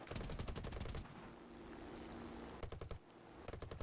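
Bursts of .50 caliber machine gun fire from a P-36C fighter aircraft in War Thunder, loud and rapid, with a long burst at the start, a steadier engine drone in between, and two shorter bursts near the end.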